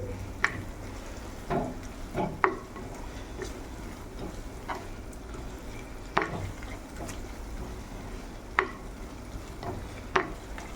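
Onions and tomato being sautéed in a pan for a spicy tuna fish curry: a continuous soft sizzle, punctuated every second or two by a spatula scraping and clacking against the pan.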